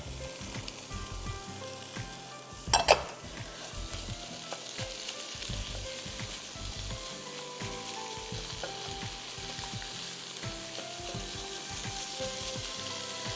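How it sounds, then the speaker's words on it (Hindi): Lentils and potatoes sauté in a pan, a steady close sizzle and crackle running throughout, broken by one sharp clatter of stirring early on, with no talk. "हम हल्का सा इसको सौते कर देते हैं ताकि दाल और आलू में इसका टेस्ट आ जाए"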